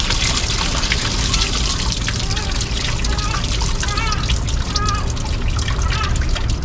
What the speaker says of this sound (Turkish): Şurada dökelim suyunu.